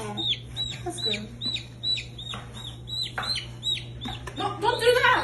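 A pet chicken clucks repeatedly in short bursts at close range over a steady low hum, with people talking near the end.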